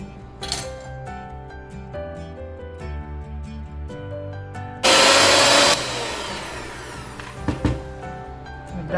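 An electric hand mixer whirs loudly into apple cake batter for about a second, a sharp burst over soft background music with light clinks around it.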